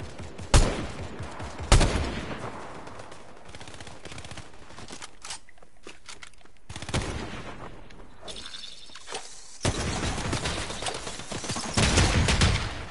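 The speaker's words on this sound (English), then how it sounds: "These guys are probably shooting at the bots for the forecast tower." Gunfire in a Fortnite match at a forecast tower, rapid bursts of automatic shots with sharp individual cracks, loud and close, broken by short pauses and resuming in sustained volleys.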